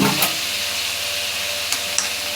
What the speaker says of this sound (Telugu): ఆయిల్లో కొంచెం వడిలేంత వరకు మనం ఫ్రై చేసుకోవాలి